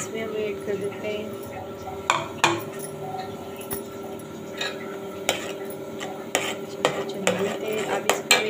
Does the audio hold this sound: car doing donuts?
no